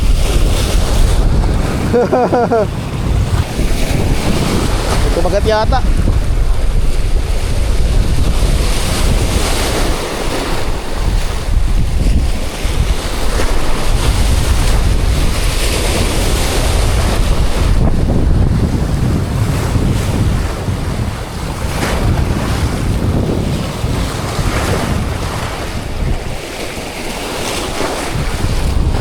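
Loud surf crashing continuously against rocks on the shore at Mariveles, Bataan, with heavy wind noise buffeting the microphone and brief voices speaking over it.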